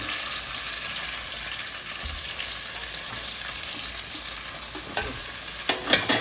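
Prawn biryani mixture with onions, tomatoes, coriander and curry leaves frying in a pan, a continuous soft sizzle with scraping stirs that grow louder near the end.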